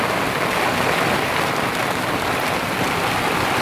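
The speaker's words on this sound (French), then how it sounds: "C'est le déluge, ça pleut de partout." A heavy downpour falls on an anchored boat, a dense, loud, unbroken hiss of rain drumming on the surfaces with no pauses and no voices.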